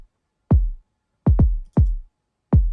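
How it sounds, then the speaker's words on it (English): A regular kick drum sample in music production, heard alone as four deep, punchy thumps in a short syncopated pattern, with two hits close together, each decaying quickly into silence. "This is the sound of the regular kick that I chose,"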